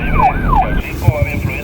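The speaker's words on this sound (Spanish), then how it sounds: "Prendo la sirena, señor." Police car siren wailing loud and close for under a second, its rising and falling sweep cutting off abruptly, followed by faint rumbling and a couple of dull thumps.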